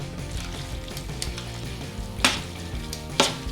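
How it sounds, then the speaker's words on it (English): Pan juices go onto pulled pork cooked low and slow for barbecue, giving a steady sizzle with two sharper bursts of hiss near the end, close and fairly loud, with no talking. "now I'm gonna add some of the pan juices for extra flavor"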